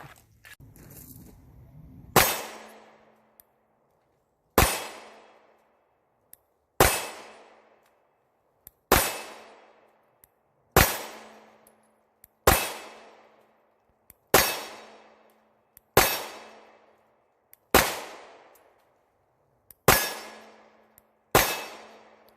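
A Springfield Armory Hellcat pistol fires Winchester 115 grain hollow point rounds: around ten sharp, loud shots at a steady pace roughly two seconds apart, each with a ringing decay, and no talking.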